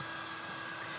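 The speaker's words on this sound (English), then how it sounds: "So I'm just going to just start them with the drill so they stick." A power drill runs steadily for a moment, driving screws into a deck board, a continuous close whirring hum with no talking.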